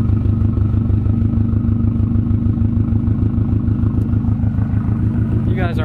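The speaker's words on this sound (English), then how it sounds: "let's hear that exhaust" A Subaru WRX or Ford Mustang exhaust runs loud and close with a steady, pulsing low rumble throughout, holding at a strong idle rather than clearly climbing in revs.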